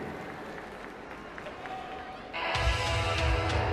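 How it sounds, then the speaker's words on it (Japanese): A wrestling crowd at Ariake Coliseum during a tag team match rumbles steadily, then swells sharply into a loud, sustained roar, with a commentator's voice running over the noise. "湧き上がる田口コールに それをかき消すブーイング"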